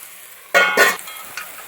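Chicken curry is stirred in a pan, Kerala style, with a short burst of scraping and sizzling from a spoon working through the food, followed by a faint clink, close and fairly loud.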